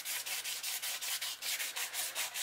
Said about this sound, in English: so I just take some very light sandpaper